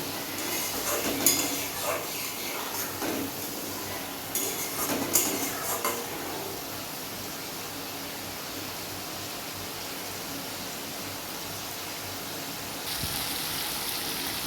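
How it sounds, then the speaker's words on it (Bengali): Spice masala fries in oil in a pan for a katla fish curry, with a soft steady sizzle under repeated scraping and clinking of a spoon against the pan. "এবার এই মশলাগুলো আমি একসঙ্গে ভালো করে ভেজে নেব যতক্ষণ না তেলটা উপরে উঠে আসে"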